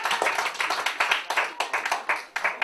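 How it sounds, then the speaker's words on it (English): An audience claps in a debate hall, a quick ragged run of hand claps at moderate volume lasting a few seconds with no talking over it. "Give him a round of applause."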